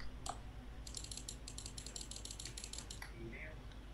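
Rapid bursts of small plastic clicks, a quick run of many in a row, close and fairly faint over a low background hum.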